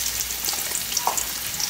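Sliced onions fry in coconut oil for a Wayanad-style kozhiyada, a steady close crackling sizzle with a brief brighter pop near the middle, no voices.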